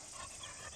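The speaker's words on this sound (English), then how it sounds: "I'm glad that we were able to get dogs like this" A hunting dog pants quickly and steadily at close range, a soft breathy hiss with no other sounds over it.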